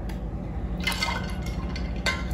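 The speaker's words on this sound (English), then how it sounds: "we needed to add the sugar, water, the sweetener. So we have our simple syrup here" Simple syrup made from sugar and water pours into a cocktail glass in a short, close trickle with soft liquid splashes against a quiet room hum.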